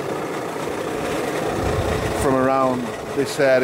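Idling VW Crafter van engine with a faulty auxiliary belt tensioner: a steady low mechanical drone runs throughout, close and constant, while someone talks over the last second or so.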